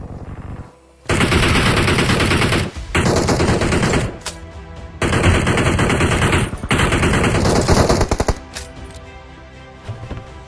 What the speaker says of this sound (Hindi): आसपास गन शॉट तो तगड़े तरीके से आ रहा है।